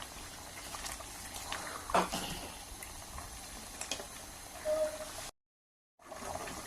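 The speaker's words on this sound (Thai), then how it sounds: "รอให้หน่อไม้สุก เดือด สุกเลยนะคะ" A pot of pickled bamboo shoots for a sour crab curry bubbling on the boil, a soft continuous simmer with faint pops and gurgles, quiet and close, cutting out briefly near the end.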